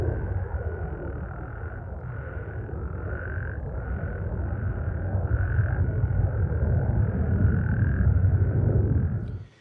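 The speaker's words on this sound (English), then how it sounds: "it took the frogs fully 45 minutes to regain their chorusing synchronicity" Frogs croak in a dense nighttime chorus, their calls pulsing in overlapping repeated bursts against a low steady rumble, loud and continuous throughout.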